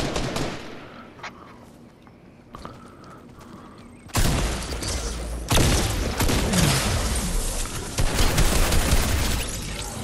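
Fortnite gameplay with bursts of gunfire, sparse shots early on giving way to loud, dense volleys in the second half.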